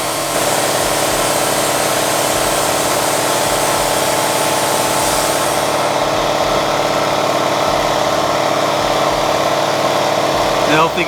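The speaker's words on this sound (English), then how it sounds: "hopefully you guys can hear me over the compressor" An air compressor runs steadily in a motorcycle workshop during an XS400 build, a loud continuous mechanical drone with a constant hum throughout, its high hiss dropping away partway through.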